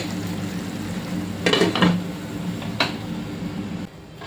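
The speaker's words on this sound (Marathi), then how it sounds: "शिजण्यासाठी मी आता झाकण ठेवते" A metal lid clanks onto a pot of frying chicken, a couple of close clattering hits over a steady low sizzle, followed by a lighter knock.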